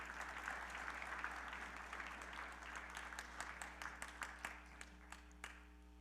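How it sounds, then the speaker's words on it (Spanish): A congregation applauds to God during a Spanish-language church service, a faint, distant wash of clapping that thins toward the end into a few scattered claps over a low hum. "Dale un aplauso a Dios otra vez"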